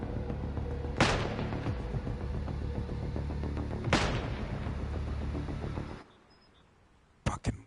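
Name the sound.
mortar rounds impacting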